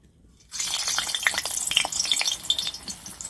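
Ghila pitha pieces hit hot oil: after a short quiet moment a bright, busy crackle and sizzle bursts up and keeps bubbling steadily, close and fairly loud.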